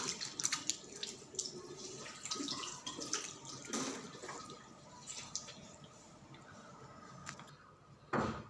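Tap water runs into a sink while someone splashes and washes their face, with irregular close splashes and drips over a quiet steady flow, ending in a brief louder burst.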